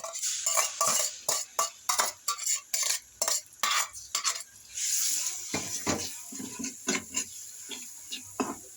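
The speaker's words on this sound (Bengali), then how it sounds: "সয়াবিন তেল গরম হয়ে আসছে বেটে রাখা রসুন শুকনা মরিচ পেঁয়াজ দিয়ে দিব" Garlic paste, dried chili and onion fry in soybean oil, with rhythmic bursts of sizzling and scraping as a spatula stirs the pan repeatedly, close by and moderately loud.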